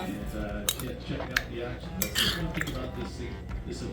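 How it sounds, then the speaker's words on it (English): Spoon scraping and clinking against a pot while thin oat milk sauce is stirred, with steady low clatter and a few sharper clinks, under people talking. "just cool and stir and cool and stir"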